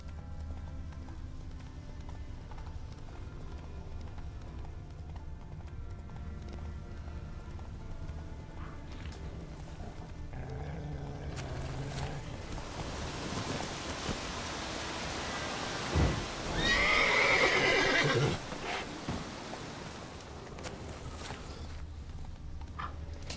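A horse gallops through the rain in The Witcher 3, its hooves drumming steadily under constant rain and a low rumble, growing louder midway with a brief strained whinny before settling back into the rhythmic gait.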